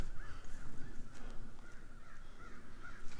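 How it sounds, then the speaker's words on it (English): Crows caw repeatedly from a distance around a bluff with off-grid waterfalls, their harsh calls faint over the steady rush of water. "You can really hear the crows"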